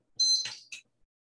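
A shrill electronic timer alarm goes off while tea steeps, giving two quick loud high-pitched bursts, the first longer than the second, with no talking.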